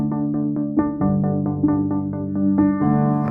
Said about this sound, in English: This is a pretty standard filter. Low pass, high pass, modulation